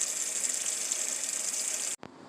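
A tap runs at low pressure with a steady, even hiss of flowing water. The flow cuts off abruptly near the end, leaving a faint knock and quiet.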